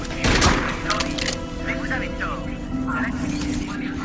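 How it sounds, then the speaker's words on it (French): Pump-action shotgun blasts in Crysis 2 gameplay: a loud close crack and boom early on, followed by scattered fainter gunfire and game effects under a continuous background drone. "Fusil à pompe."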